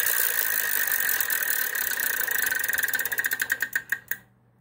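A Wheel of Fortune game show wheel spun in the studio, a rapid run of clicks that slows to widely spaced ticks before it stops, loud and close.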